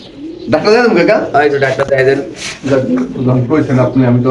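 Spanish pigeons offered for sale give loud, close, repeated throaty coos that overlap with people talking nearby.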